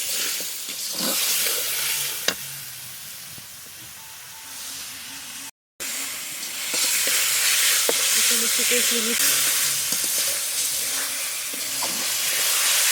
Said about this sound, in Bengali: মশলা কষিয়ে দেওয়া হচ্ছে ভেজা পা মাথা দিয়ে আর ডাল দিয়ে মুড়ি ঘন্ট তৈরি হবে